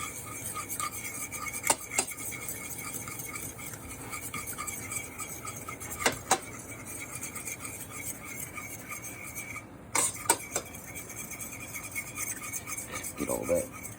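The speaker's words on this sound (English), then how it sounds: "I'm gonna take a little bit of flour and I'm gonna make a roux out of this stuff that's in the bottom." Flour is stirred into pan drippings to make a roux, with a metal utensil steadily scraping and clinking against the pan and a few sharper knocks throughout.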